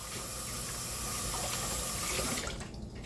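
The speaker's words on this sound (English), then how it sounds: "I'm going to rinse this off and clean it" Caribbean spiny lobster tails are rinsed under a kitchen tap, a close, steady rush of running water that changes tone and eases near the end as the flow is interrupted.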